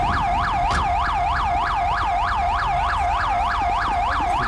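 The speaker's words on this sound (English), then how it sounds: "Is that my siren? Let me turn the siren off." A police car siren wails in the video game GTA V, a loud, close, rapid warbling sweep repeating several times a second without pause over low road rumble.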